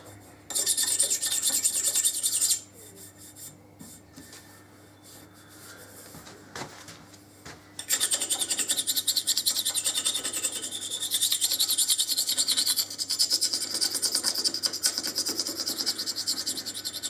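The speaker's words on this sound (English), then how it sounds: "all I'm going to do is just where the high lumps are, where the glue's been, just scrape it off" A metal strip scraping old glue off a 2013 Harley Davidson FLD Switchback, long rasping strokes close by, a quieter pause in the middle, then steady continuous scraping.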